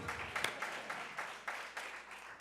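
An audience applauds at a startup hub launch event, with scattered claps rising and falling in loose bursts over a steady wash of crowd noise.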